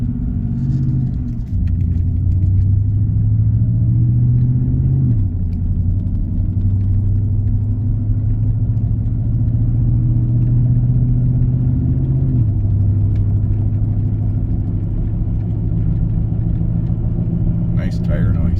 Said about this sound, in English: Nice tire noise.